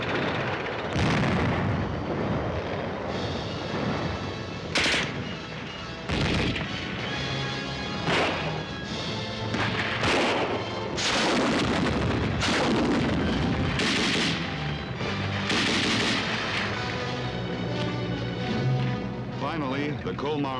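Artillery and gunfire from the WWII attack on Colmar, repeated heavy booms and sharp blasts at irregular intervals over a constant battle rumble, loud and dense, with a voice present in the mix.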